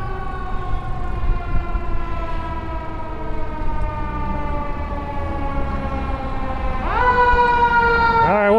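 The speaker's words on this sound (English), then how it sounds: "I'm gonna get passed by a fire truck." A fire truck siren wails close by at night on a Washington DC street, holding a steady tone with traffic rumble beneath, then sweeping sharply upward and growing louder near the end as the truck passes.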